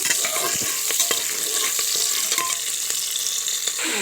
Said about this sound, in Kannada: ಕರಿಬೇವನ್ನು ಹಾಕ್ಕೊಂಡು ಈರುಳ್ಳಿ ಹಾಕೊಳ್ಳೋಣ ಚೆನ್ನಾಗಿ ಫ್ರೈ ಮಾಡ್ಕೊಳ್ಳೋಣ